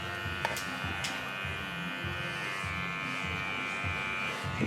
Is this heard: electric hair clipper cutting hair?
yes